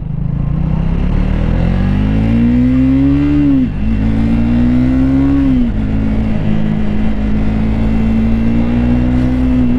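A 2024 Triumph Speed 400 motorcycle heard while riding, its engine humming steadily with a few rises in revs and short dips between gears under continuous wind noise.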